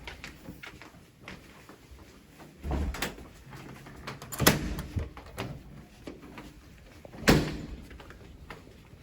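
Theater doors open and close as someone passes through, giving several soft thuds and latch clunks with quiet footsteps in between.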